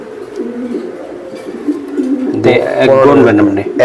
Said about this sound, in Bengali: পনেরোটা রেস করা কবুতর আমরা দেখাচ্ছি